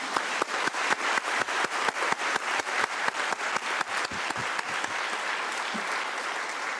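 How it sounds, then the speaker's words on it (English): A large audience at a United Nations civil society conference in Nairobi claps in unison, sharp rhythmic beats in steady tempo that loosen into scattered clapping toward the end, moderately loud in a big hall. "May we please give them a round of applause."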